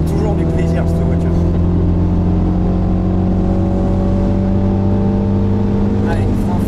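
A BMW car accelerates hard on a track, its engine drone loud and steady from inside the cabin as the pitch climbs slowly, while people speak over it.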